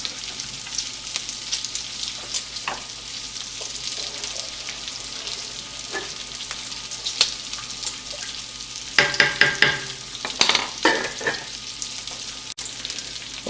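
Bacon sizzles and crackles steadily in a pan as it is stirred while cooking for cabbage rolls, with louder bursts of spattering and scraping toward the end and no talking.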